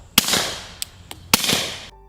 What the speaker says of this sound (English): a suppressor reduces the noise of a gunshot by about 20 to 30 decibels, meaning it's still an extremely loud event.